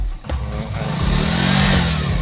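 A 2014 Yamaha RS110F motorcycle engine restored to stock, running steadily at close range with a smooth, even drone that swells slightly and holds, no ticking audible.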